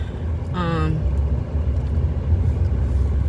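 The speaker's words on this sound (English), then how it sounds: "I wonder why there's so much traffic out here." Road traffic passing by outdoors, heard as a steady low rumble of vehicles that stays constant throughout, with a short voiced sound near the start.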